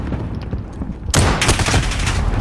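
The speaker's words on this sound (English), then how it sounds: "Oh, then you start shooting." Gunfire in a video game erupts suddenly halfway through, a loud rapid burst of shots that keeps going to the end after a quieter lead-in.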